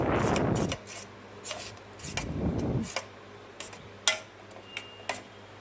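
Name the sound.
spoon mixing fried vegetables into batter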